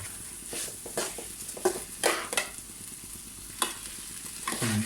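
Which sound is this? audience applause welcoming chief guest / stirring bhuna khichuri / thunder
stirring bhuna khichuri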